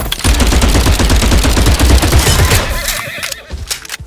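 Cavalry horses and gunfire in the Glory Front line video game, a dense, loud barrage of rapid shots mixed with neighing that cuts off abruptly, leaving a quieter tail.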